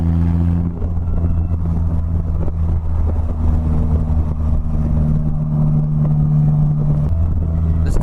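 Polaris Slingshot three-wheeler driving and accelerating, its engine a loud steady droning note that shifts pitch as revs change, close and continuous with road noise underneath.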